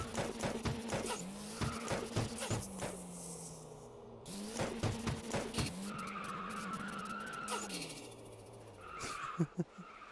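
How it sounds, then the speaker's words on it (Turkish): Video-game cars in Car Dealership 2 spin their wheels and skid, with repeated screeching tire squeals and engine revs in bursts, while people talk and laugh over them. "Tekerlek sarıyor."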